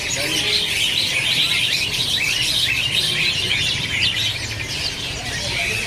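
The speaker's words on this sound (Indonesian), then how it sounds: "Di sini ada juga burung pleci Bali ya." A Bali pleci white-eye chirps in a crowded bird-selling stall, its rapid high twittering running nonstop amid a dense chorus of other caged songbirds.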